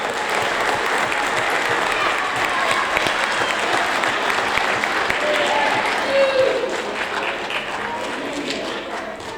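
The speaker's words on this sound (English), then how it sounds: "One big round of applause for Maroon Team Academic Excellence, second marking period." Dense, sustained clapping from a crowd at a sixth grade school awards ceremony, loud and even throughout with a few voices mixed in.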